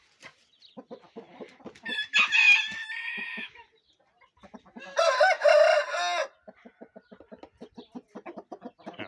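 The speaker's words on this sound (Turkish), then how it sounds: "Ama güzel bir horoz." A young training rooster, sired by an Indian game bird, crows loudly twice, each call long and strained, while hens cluck in short repeated bursts before, between and after the crows.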